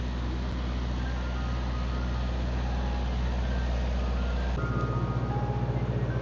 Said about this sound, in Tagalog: Ice cream truck oh.